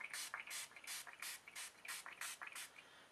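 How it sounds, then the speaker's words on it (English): Spray bottle misting a watercolor painting that has dried for two days: about eight quick, even hissing bursts in a steady rhythm, close and alone with no talk. "I'm going to give them a little spray since everything has been drying for 2 days."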